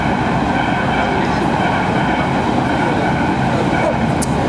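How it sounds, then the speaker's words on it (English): Trains rumble past near Berlin Zoo station, a loud continuous roar of wheels on track with clattering and a brief high squeal near the end, close by. "trains going by everywhere"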